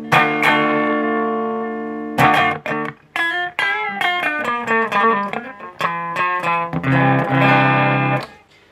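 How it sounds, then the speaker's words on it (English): Distorted electric guitar played through a Madbean Aquaboy delay pedal set to its lowest delay time, loud sustained chords then choppy picked notes and runs with gritty repeating echoes, no talking. "the lowest delay setting will be the most distorted"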